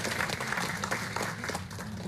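An audience at a book launch in Lubango applauds, a dense sustained wash of clapping from a crowd, heard at moderate volume with a low background murmur.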